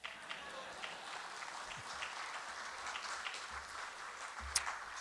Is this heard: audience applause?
yes